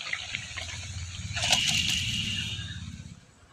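Cooked Bengali fish curry with cabbage poured out of a pan, a continuous liquid splashing and trickling that swells in the middle and then tapers off, close and alone.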